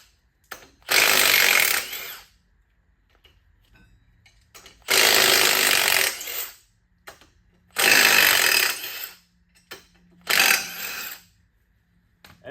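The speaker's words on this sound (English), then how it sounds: "Brought some power tools in." Four loud bursts of a high-pitched power tool, likely an impact wrench, removing an engine flywheel, each whirring for a second or two with quiet gaps between.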